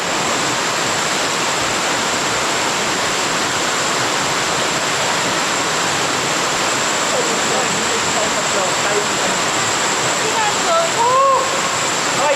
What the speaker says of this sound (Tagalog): Ayan, may falls na. Pero hindi pa yun yung Pagsanan Falls.